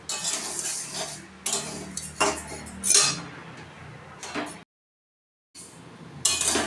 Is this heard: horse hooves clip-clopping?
no